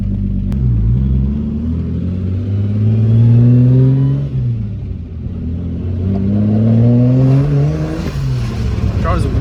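A tuned car engine running on ethanol revs up and down in long, smooth sweeps. Its loud, close rumble carries on throughout, and a voice may be faintly mixed in.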